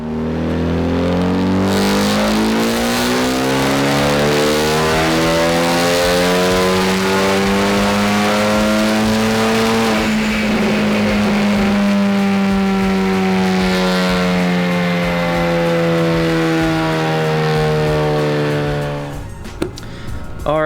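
A Ford Focus ST fitted with a GTX2867 turbo revs hard on dyno rollers, a loud sustained engine pull that climbs steadily in pitch, peaks midway, then eases down before cutting off near the end.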